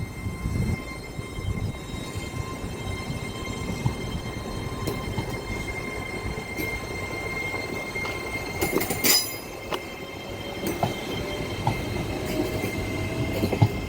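A train crawls slowly into Manors Station, Newcastle, with steady rail rumble, a rising wheel squeal and sharp clanks near the middle, continuous and fairly close.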